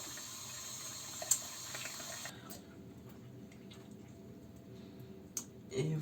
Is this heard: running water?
yes